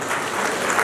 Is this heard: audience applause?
yes